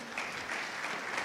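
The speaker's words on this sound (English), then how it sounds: "Big applause for Juan, please." A crowd applauds, steady clapping from many hands filling the room.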